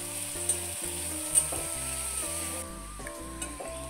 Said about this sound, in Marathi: आता कांदा रंग बदलेपर्यंत परतून घ्यायचा आहे।